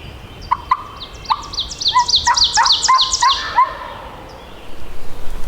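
Wild turkey gobbles in mountain terrain, a rapid series of rolling, chattering calls that rise to a loud burst in the middle and return faintly near the end, heard fairly distant across open woods with no talk.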